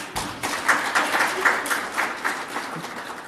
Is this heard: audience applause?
yes